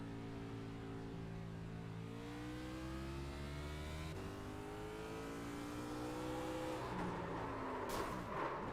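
A race car at a short-track event revs hard with too much throttle, its engine note climbing in steady upward sweeps and staying loud and continuous, ending with a harsh scraping burst as the car spins.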